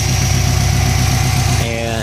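A 2006 Subaru STI idles with a catless full titanium 3-inch turboback exhaust and ceramic-coated downpipe, a loud, steady burbling rumble with an even pulsing rhythm close by, a short tonal voice-like sound near the end.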